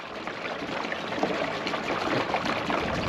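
Water runs from a garden hose at an outdoor faucet in a steady, close, rushing stream with a constant level and no voices.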